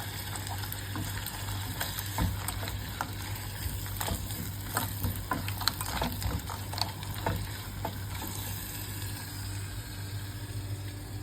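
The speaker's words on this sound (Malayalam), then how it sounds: "നന്നായിട്ട് ഇളക്കി കൊടുക്കുക." Chopped ingredients frying in a pan while being stirred, a continuous close sizzle with scattered scraping and clinking of the spoon against the pan, alongside a low steady hum.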